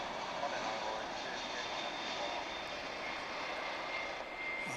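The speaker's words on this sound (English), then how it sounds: "oh, another UPS aircraft" UPS cargo aircraft at DFW International Airport: a steady, broad engine roar holds throughout, moderately distant and unbroken.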